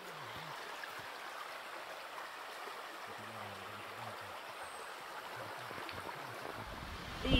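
A Calabrian stream, the fiumara della Ruffa, flows steadily in a soft, continuous wash of water, quiet and unbroken, with a short knock near the end.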